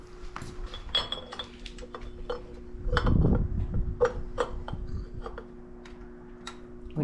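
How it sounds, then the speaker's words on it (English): Metal wrenches, 11/16 and 5/16 sizes, clink and clatter against each other during work on a 1969 pro street Camaro in a garage, with scattered sharp taps and a louder jangle midway over a low hum. "Let me have 2 11/16 wrenches,"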